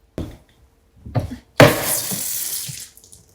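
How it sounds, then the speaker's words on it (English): Soda water poured into a cocktail glass: two brief splashes followed by a longer fizzy pour lasting about two seconds, close and clear, with no talking. "To top it all off, some soda water."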